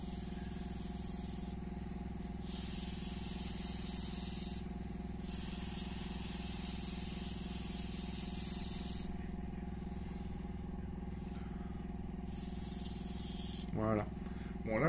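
An airbrush sprays Lifecolor paint thinned with a new thinner, a steady close hiss that cuts out in short pauses and resumes, ending with a brief squeak.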